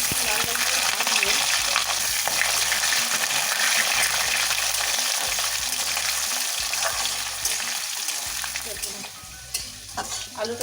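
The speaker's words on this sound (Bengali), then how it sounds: "আলুটা আমি একটু লাল লাল করে ভাজবো।" Potatoes fry in hot oil with whole cumin seeds in a pan, a loud continuous sizzle broken by scraping stirs, easing slightly toward the end.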